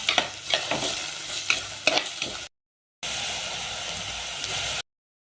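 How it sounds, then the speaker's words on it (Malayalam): Stirring and sautéing small onions for a Kerala-style tuna fish curry in a pan: a steady close sizzle with repeated scraping stir strokes in the first half, then continuous frying hiss after a brief gap. "എല്ലാം കൂടി വഴറ്റിയെടുക്കാം"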